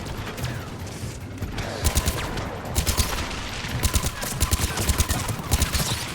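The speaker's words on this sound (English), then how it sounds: "What is shooting in here?" Rapid bursts of gunfire in the video game Mass Effect 3 during a fight with Reaper enemies, dense repeated shots over a busy, loud background of game noise.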